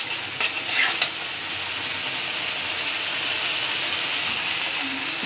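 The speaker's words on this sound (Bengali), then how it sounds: "মশলাটা কষানো হয়ে গেছে, এখন আমি মাছগুলো দিয়ে কষাই নিব" Hilsa fish frying in mustard masala in a village kitchen, a steady hiss and sizzle of hot oil with a few scraping stirs of the spatula near the start, close and continuous.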